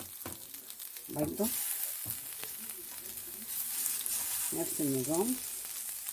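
Eels sizzle and spit as they go into a grill pan, a steady frying hiss rising and holding throughout, with someone talking over it at moments.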